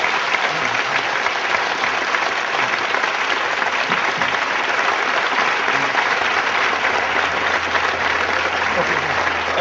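Sustained audience applause at the close of a lecture on Slavoj Žižek, dense steady clapping from a sizable crowd filling the room evenly for the whole stretch.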